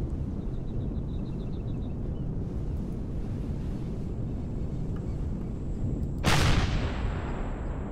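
Missile launch in the space-survival video game Empyrion: steady low wind-like rumble throughout, with a single sudden loud whooshing burst near the end, no talk.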